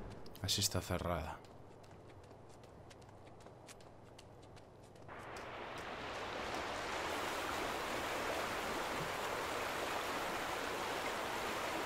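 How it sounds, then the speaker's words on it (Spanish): Water gushes out more strongly after a door opens in The Vanishing of Ethan Carter, with a steady rushing flow that swells louder partway through, following a brief loud clatter at the start. "Y si abrimos, obviamente, sale más agua."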